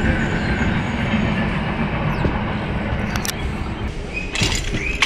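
The 17239 Simhadri Express rolls along the line near Nidadavolu on the Bhimavaram route, a steady loud rumble of wheels on rails with a few sharp metallic clicks and squeals toward the end.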